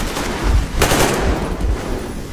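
Gunfire in the video game Metro Exodus, a dense burst of rapid shots with a sharp crack near the middle, loud and continuous over a noisy battle backdrop, with no voices.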